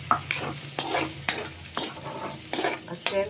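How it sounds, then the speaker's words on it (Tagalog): Carrot and sautéed onion stir in a hot pan for homemade mami, with a steady sizzle and repeated scraping strokes of a utensil, close and fairly loud. "Nakagisa na tayo. Lagay na natin yung carrot."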